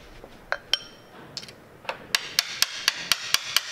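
A hammer strikes the steering stem of a Honda CB500X Rally Raid Adventure motorcycle to seat its tapered bearings, with a few scattered taps followed by a steady run of sharp, ringing metallic blows.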